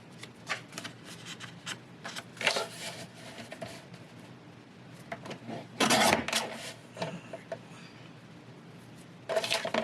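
Paper guillotine trimmer slicing through paper during a craft project, a handful of dry crisp cuts and shuffles with one louder, fuller slicing burst near the end, close up and without talk.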